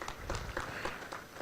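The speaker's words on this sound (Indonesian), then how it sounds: "Beri tepuk tangan yang meriah" Applause from an audience at a formal ceremony for a talk show on business and the 2024 elections in Banten, a steady dense patter of many hands lasting throughout, fairly faint and even.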